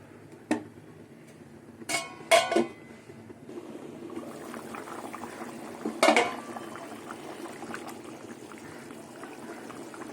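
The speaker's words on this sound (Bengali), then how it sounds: "সেদ্ধ হয়ে গেছে আলু ঝোলও ফুটে গেছে" A pot of potato curry broth with new potatoes simmering on the stove, a quiet bubbling texture broken by a few sharp metal clinks from pots and utensils.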